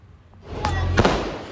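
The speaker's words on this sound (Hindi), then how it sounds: "ये हमारी सोसाइटी में इतने सारे पटाखे फूट रहे थे" Firecrackers burst in a housing society during Diwali celebrations: a couple of loud, close booms roughly a third of a second apart over a rumbling outdoor background.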